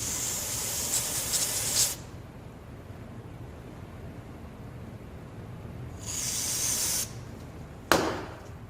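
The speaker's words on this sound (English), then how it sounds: "Let's take some carb cleaner and we'll shoot it down here in the middle." Aerosol carb cleaner sprays into the middle of a carburetor on an Ariens ST824 two-stage snow blower, three loud hissing bursts, a long one, a second about a second long and a brief final blast, with quiet gaps between.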